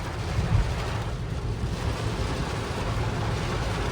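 Heavy rain pours onto a car driving toward Lonavala, a dense continuous roar and drumming on the body and glass with low road rumble, steady throughout without speech.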